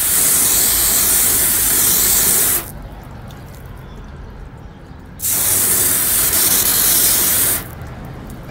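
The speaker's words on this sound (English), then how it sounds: "So I'm gonna wash it up, rinse a little bit." Pressurized water spray rinsing a car during a clay-bar detailing job, two loud hissing bursts of a few seconds each with a quieter pause between them, close and steady with no talking.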